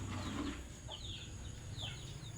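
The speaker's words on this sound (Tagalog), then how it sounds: "Yan o, daming manok po." Chickens cluck and chirp softly at a farmyard feeding, a few scattered short calls over a faint steady background hum, fairly distant and quiet.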